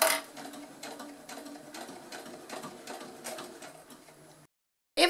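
A domestic sewing machine runs slowly and steadily while topstitching a large fabric tote bag, producing a close, even whir with rhythmic needle pulses. It stops abruptly near the end, then a brief clunk follows.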